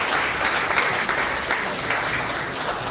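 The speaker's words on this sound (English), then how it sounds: "So one more round of applause for everybody here." A crowd gives a round of applause at a startup demo day event in Singapore, a continuous dense wash of clapping that stays loud and even for three seconds.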